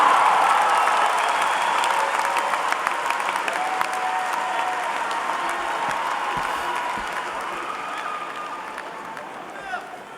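A large crowd at a UCLA college commencement ceremony claps together in a dense, sustained applause that slowly fades, with scattered voices and cheers mixed in.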